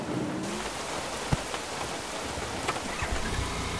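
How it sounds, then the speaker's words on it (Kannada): Steady rain patters on surfaces throughout, with low thunder rumbling in the background during a short stormy stretch. "ಮಳೆ ಬರ್ತಾ ಇದೆ"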